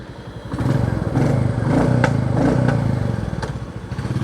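A Royal Enfield Bullet 350 Battalion edition motorcycle on the move, its engine thumping in a steady, pulsing rhythm. The sound is close and fairly loud, with brief clatters on top and no talking.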